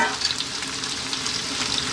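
Carrots go into a hot soup pot already holding potatoes for a vegan carrot coriander soup, giving a close, steady sizzle with soft stirring scrapes.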